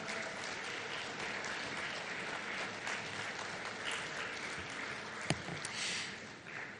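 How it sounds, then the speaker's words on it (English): A conclave audience gives a sustained round of clapping for former Congress President Sonia Gandhi, steady and fairly even, with a sharp single knock partway through before it tapers slightly. "A big, loud round of applause for the former Congress President"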